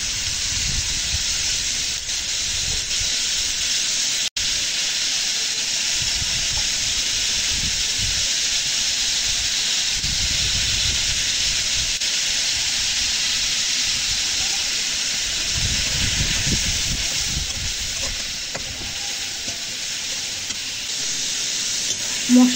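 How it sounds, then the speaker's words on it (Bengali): Spice masala of salt, turmeric, chili powder and cumin fries in a pan for a fish dish, giving a steady sizzling hiss with soft stirring scrapes that come and go. "মশলাটি সুন্দর করে কষিয়ে নিয়েছি।"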